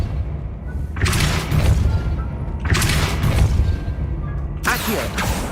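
Depulso spells are cast in the video game Hogwarts Legacy, three loud, booming blasts that land at roughly even intervals, each with a forceful thump and a short rushing tail.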